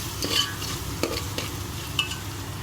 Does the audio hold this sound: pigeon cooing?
no